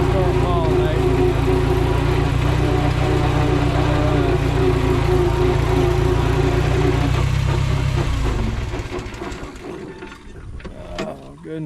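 Tractor engine running steadily and loud at close range in a garden by a corn patch, with a low continuous rumble that drops away near the end as the engine cuts out; a person talks over it.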